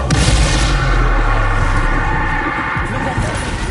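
The Bombarda explosion spell in the Hogwarts Legacy video game: a loud booming blast with rumbling, crackling debris that decays over a few seconds.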